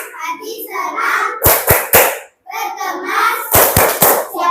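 Children in a classroom clap their hands in unison amid lively chanting, two quick bursts of three sharp claps each, close and loud between stretches of young voices.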